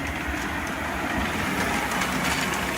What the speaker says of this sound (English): I'm bringing out the New York Central beer train.